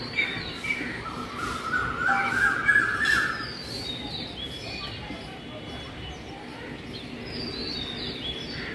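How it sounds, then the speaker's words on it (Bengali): An Asian koel calls outdoors on an overcast, foggy day, one clear rising whistled call standing out over a hazy background hum, with faint chirps afterward. "কোকিলের ডাকটা কিন্তু আছে, শুনতে পাচ্ছ?"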